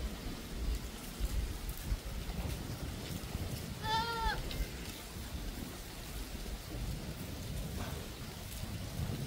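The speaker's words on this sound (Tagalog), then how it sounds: "So si Sarah, naaway yung katabi, mga katabi niyang kambing, inaaway niya." A goat bleats once, a short wavering call over steady rain falling on a farm, with a low rumble of thunder in the background.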